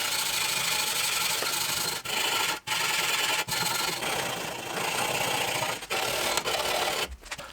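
A wire hand brush scrubs hard across a rusty metal part, loud close rasping strokes running almost continuously with a few brief breaks.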